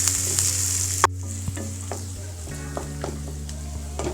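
Mustard seeds, onion, green chilli and curry leaves fry in hot oil with a close, steady sizzle, broken by sharp spoon taps and scrapes against the pan, one louder knock early on.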